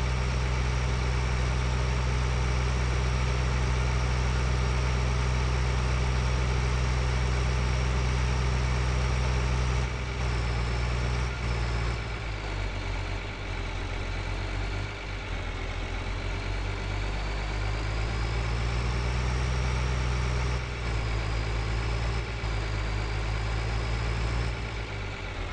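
A tractor engine idles in Farming Simulator 2013, a loud, steady low rumble that holds constant for about ten seconds, then wavers and shifts slightly in tone several times before settling again, with no talk.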